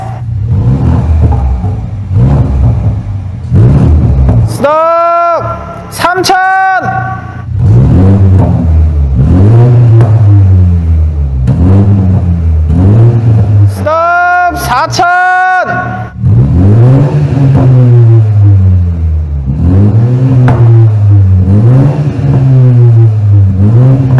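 BMW Z4 with a custom exhaust and muffler tips revving to about 2000 rpm in sport mode, loud repeated rising revs with deep rumbling drops between them, punctuated by sharp high-pitched whines, with a voice speaking at times.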